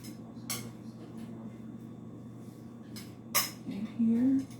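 Dorito taco salad being mixed in a bowl, with several sharp clinks and scrapes of a utensil against the dish, close and intermittent over a quiet background hum and a brief voice.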